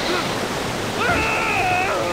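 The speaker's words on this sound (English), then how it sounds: "It's a waterfall" A waterfall in the video game Pirates of the Caribbean: At World's End gives a steady, loud wash of rushing water, with brief chirpy game tones sliding over it partway through.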